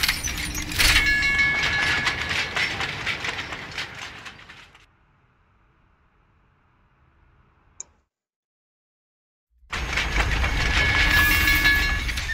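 A subway train ride in the video game F.I.S.T. rumbles with rhythmic clickety-clack wheel noise, fading into near silence with a single click, then returning loud and steady.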